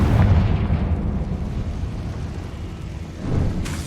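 A Confringo blasting spell explodes in Hogwarts Legacy, a loud, rumbling burst that rolls on and slowly fades, with a second thump near the end.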